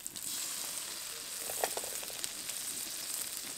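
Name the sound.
frying ginger-garlic paste and ground spices for mutton curry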